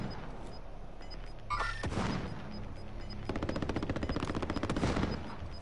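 Gunfire in Call of Duty Warzone, with a short close burst followed by a long rapid automatic volley, moderately loud over a steady game background.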